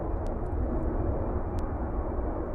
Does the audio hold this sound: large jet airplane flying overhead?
yes